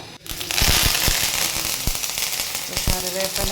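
Mustard seeds pop and splutter in hot coconut oil, a loud, dense crackle of sharp snaps over a steady frying hiss that runs the whole time at close range.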